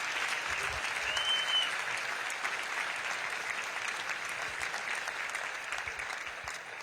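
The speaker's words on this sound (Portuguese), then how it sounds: "Vamos aplaudir Jesus mais uma vez" A church congregation claps in a steady wash of applause that lasts throughout, moderately distant and fading slightly toward the end, with faint voices underneath.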